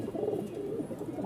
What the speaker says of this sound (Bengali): 3 জোড়া কবুতর